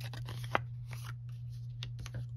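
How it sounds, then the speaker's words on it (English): Paper is cut along black lines with scissors, giving several close snips with one sharp click near the start, faint over a constant low hum and with no one speaking. "I think we need to cut out these black lines"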